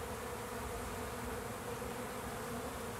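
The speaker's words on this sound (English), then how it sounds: "Debbie said she wanted to hear them bees" Honey bees buzz steadily around a hive, forming a continuous dense drone at low volume with no breaks over the whole few seconds.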